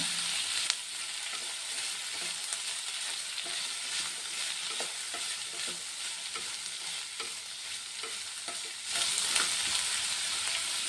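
Curry leaves and onions frying in a pan for a vegetable palya, giving a steady close sizzle with scattered small crackles and a louder burst of spitting near the end, with no voices.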